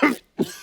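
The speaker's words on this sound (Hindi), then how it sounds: "शुरू हो गया खांसना।" Two short, rough coughs from someone choking on cigarette smoke, close and fairly loud, with a brief silence between them.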